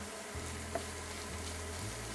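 Crushed garlic cloves sizzle in a hot pan with kimchi for kimchi fried rice, a steady close crackling fry with a faint low hum beneath and small spatters.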